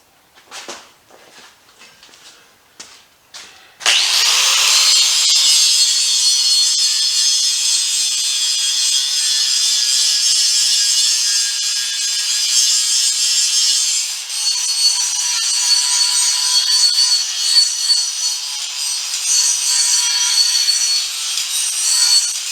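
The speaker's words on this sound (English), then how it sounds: "Check the grinders here real quick." A grinder cleans up metal for welding while a shop dolly is fabricated from an old crate: a few brief clicks and taps, then a loud, continuous high-pitched grinding whine that holds steady for nearly twenty seconds, close up, with no talk.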